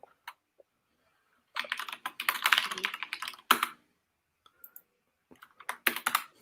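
Computer keyboard typing in irregular bursts of rapid, close clicks separated by short pauses, no speech.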